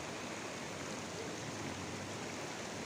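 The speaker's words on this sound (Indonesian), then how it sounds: "Kita lihat sendiri di sini seperti yang kita ketahui tadi, sungainya deras." A swift-flowing river stream near a waterfall gives a steady, even hiss of rushing water, moderately faint and continuous throughout.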